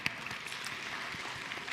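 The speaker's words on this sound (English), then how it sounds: "Give him a round of applause." An audience gives a round of applause, heard as a faint, steady patter of many hands that stays low and distant throughout.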